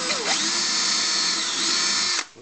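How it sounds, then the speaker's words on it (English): A power drill boring a small pilot hole for a cabinet hinge damper screw, a steady high whine that spins up, holds for about two seconds and then cuts off. "you're better off drilling a little pilot hole"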